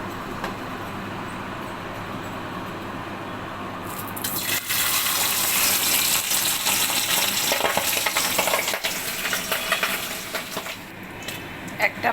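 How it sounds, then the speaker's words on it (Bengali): Pabda fish are lowered one at a time into hot mustard oil in a wok. Quiet oil hiss swells at about four seconds into a loud, steady, bubbling sizzle that fills the rest of the clip. "কড়াইতে তেল দিয়ে দিয়েছি সর্ষের তেল এবার আমি একটা একটা করে পাবদা মাছ ভেজে নিচ্ছি"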